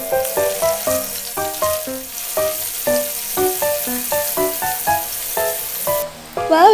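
Breaded pork belly liempo frying in hot oil gives a steady, soft sizzle that runs under prominent plucked background music, with a louder clatter near the end.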